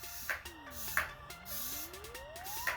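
Three quick, quiet spritzes from a makeup setting spray bottle, spaced apart, with a faint low tone in the background.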